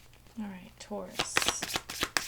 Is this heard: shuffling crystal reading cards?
yes